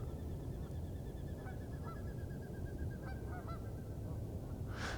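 Several geese honk repeatedly at a moderate distance, calling in a loose series over a steady outdoor background rumble.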